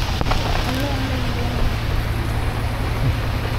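Rain pours steadily onto a boat on Tanguar Haor, a dense, even hiss of drops on the roof and water throughout, with voices talking faintly underneath.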